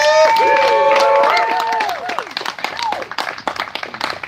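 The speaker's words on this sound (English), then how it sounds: "please just quickly give yourselves a round of applause for being here and being so supportive" An indoor audience at a motorcycle club announcement event bursts into applause and some cheering. Sustained voices at first give way to dense, close clapping that thins out toward the end.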